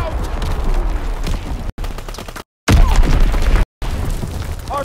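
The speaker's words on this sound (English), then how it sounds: "Dropping Azon bomb." An Azon bomb explodes during a Call of Duty: WWII match, part of a dense, loud battle soundscape of booms, gunfire bursts and rapid shots, with brief dropouts in the sound.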